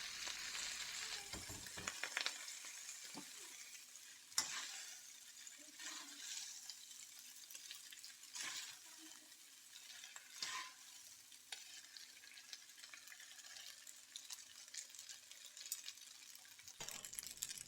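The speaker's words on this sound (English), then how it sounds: "The stir fry is ready for the noodles, so those can go in. Then I'll give them a jiggle." Pork and udon noodle stir-fry sizzling steadily in a hot pan, a continuous bright hiss broken by occasional sharp clatters and scrapes as the noodles are added and the pan is jiggled.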